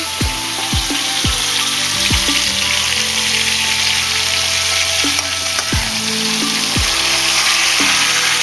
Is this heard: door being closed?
no